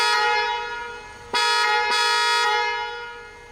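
Main horn of a 2024 Ineos Grenadier SUV, loud and close: a sustained blare that fades slightly, then two more pressed blasts in quick succession trailing off.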